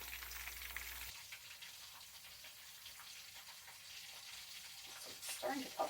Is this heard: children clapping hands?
no